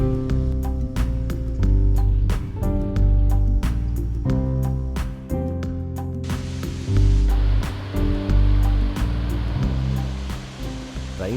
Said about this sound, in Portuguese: imagens da bela Cachoeira da Doutora